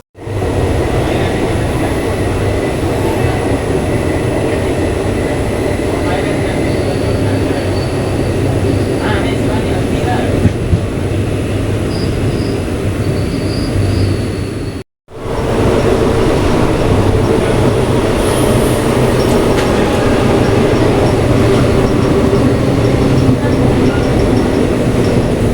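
A loud Intercity Express passenger train between Trichy and Thiruvananthapuram rumbles steadily along the track with rhythmic wheel clatter and a brief dropout partway through. A few voices come through faintly.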